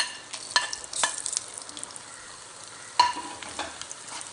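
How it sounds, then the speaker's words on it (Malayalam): Cloves, star anise and cinnamon sizzling in hot oil for beef masala fry, a soft sizzle punctuated by a few sharp clinks and scrapes of a utensil, close and unaccompanied by talk. "ഇനി ഇതിലേക്ക് കുറച്ച് എണ്ണ ആഡ് ചെയ്ത് കൊടുക്കാം. ഗ്രാമ്പും തക്കോലവും കറുവപ്പട്ടയും കൂടി ഇട്ട് കൊടുക്കാം."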